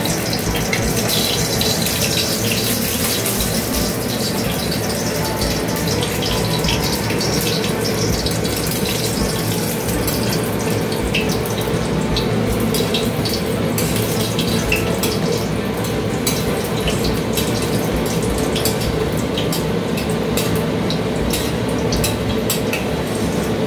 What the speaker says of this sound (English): Now she fries all the bodi.